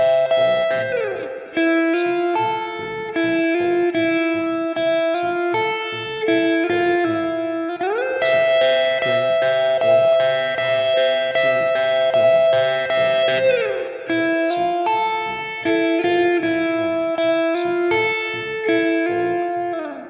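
A distorted electric guitar plays the melodic lead solo from a song over drums and backing, with sustained bent notes and quick runs, loud and continuous throughout.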